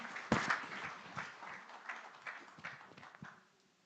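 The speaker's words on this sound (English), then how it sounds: "A big round of applause one more time for all our panelists and our moderator" A conference audience at a skills forum in Rwanda gives a round of applause for the panelists and moderator, a faint, sparse patter of clapping that thins out and fades to near silence.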